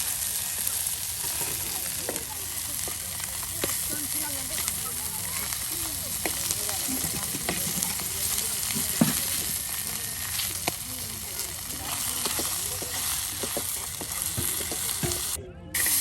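Fish sizzling and crackling steadily in hot oil, a dense continuous fry with occasional stirring clicks and a voice talking faintly underneath.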